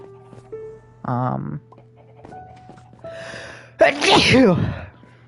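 A person sneezes loudly right into a close microphone, a sharp breathy burst near the end, preceded by a short voiced sound and a faint steady hum in the background.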